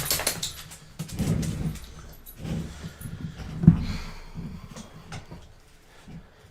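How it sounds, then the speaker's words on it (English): A dog whimpers and snuffles in a room, faint intermittent whines and snorts scattered over several seconds with a sharp bump or knock midway, quiet and somewhat distant with no clear speech. "That dog, it gets possessive over my room."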